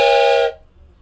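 A person mimics a train whistle with the voice, giving one loud, steady, bright whistling tone for about half a second before it cuts off abruptly into quiet.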